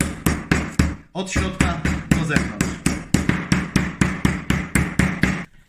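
A meat mallet pounds pork cutlets covered with plastic wrap in a home kitchen: about eighteen loud, evenly spaced thuds in a steady rhythm, with a brief pause near the start, while a voice speaks briefly.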